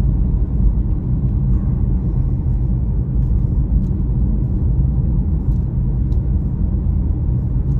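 A 2016 Jaguar XF 2.0-litre diesel with a manual gearbox drives and accelerates, its engine giving a loud, steady, close rumble throughout with no pauses.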